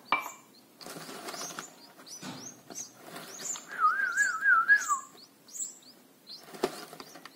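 Red-whiskered bulbul chicks chirp and beg while being hand-fed, with a series of short, high, close chirps and one longer trilling call amid soft rustling.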